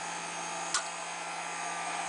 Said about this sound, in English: instead of a light bulb like most people use, I have a hair dryer